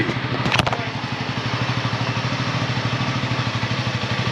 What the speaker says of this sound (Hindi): अब मैं बाइक दौड़ रहा है हमारा ऑफ रोड बाइक छोटा हाथी